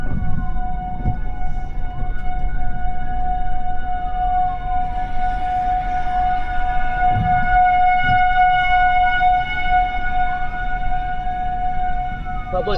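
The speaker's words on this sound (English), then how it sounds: "Sirens going off in Elkhorn now." Tornado warning sirens wail in Elkhorn during a tornado, their tones rising and falling in long sweeps over a loud, steady rumble of wind and rain that persists throughout.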